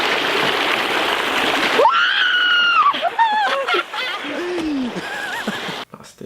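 A man lets out a loud, wavering scream after slipping on a rock into a river, rising over the steady rush of flowing water, followed by shorter pained cries.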